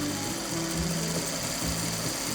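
A sewing machine stitching fabric, its rapid steady needle chatter running close and loud for a couple of seconds with small shifts in speed.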